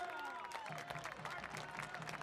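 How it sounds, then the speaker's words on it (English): Home supporters cheer and applaud from the stands at Trinity Health Stadium during a Hartford Athletic versus FC Tulsa soccer match, a broad, sustained crowd roar with faint voices mixed in. "The home crowd absolutely loving it"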